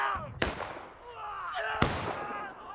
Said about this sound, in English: Both CSA and Union are getting hit by their artillery.